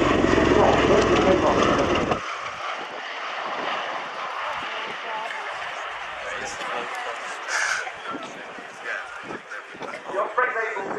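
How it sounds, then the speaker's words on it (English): At the RIAT 2019 airshow, two aircraft accelerate with a loud engine roar that starts heavy and low, then thins into a distant, wavering drone beneath public-address commentary. "two aircraft continue to accelerate and convert to the top"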